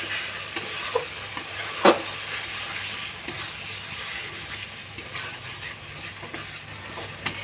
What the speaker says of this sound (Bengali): চিংড়ি মাছ দিয়ে একটুখানি কষিয়ে নেব।